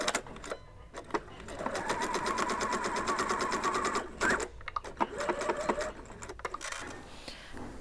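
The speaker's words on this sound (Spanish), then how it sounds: "iremos a coser una puntada recta, un largo de 3" A sewing machine runs a straight stitch of length 3 through canvas with a size 80–90 universal needle, a steady fast mechanical rattle lasting about three seconds, then short bursts and pauses while a voice speaks quietly nearby.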